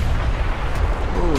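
A warship's main gun fires in the naval game Ultimate Admiral: Dreadnoughts, heard as a loud, continuous rumbling roar that fills the whole moment, with a voice talking over it.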